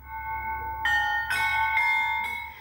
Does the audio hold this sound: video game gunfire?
no